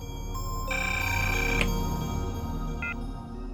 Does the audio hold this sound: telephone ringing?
yes